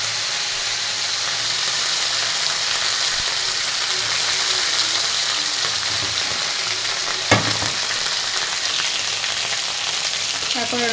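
Potatoes with green chillies dropped into hot oil for a sidol chutney, a loud, dense, steady frying hiss up close, with one brief clank of a utensil partway through.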